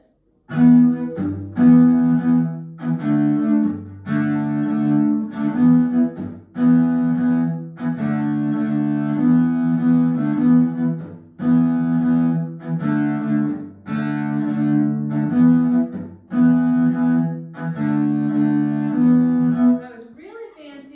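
Fiddle bowing a rhythm for Brown Sailed Boat with chop strokes, the strings dampened on each chop, giving sustained bowed notes broken by short percussive scratches in a steady pattern, close and solo.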